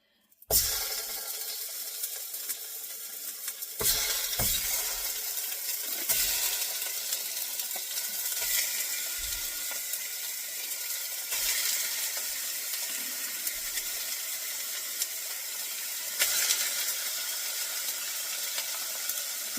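Meat searing in a hot pan gives a loud, steady sizzling hiss that runs almost without a break, with a few soft clinks and small bursts along the way and no voices.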